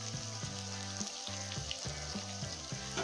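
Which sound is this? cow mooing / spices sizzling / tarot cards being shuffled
spices sizzling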